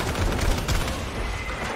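Pump shotgun fire in the Fortnite video game, a burst of close, loud blasts packed into under two seconds with no speech over it.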